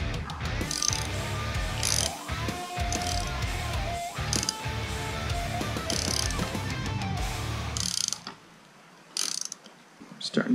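A ratchet clicks rapidly in bursts while tightening a lock nut on a Harley-Davidson Sportster mirror extension, the close metallic ratcheting pausing briefly before a last few short clicks.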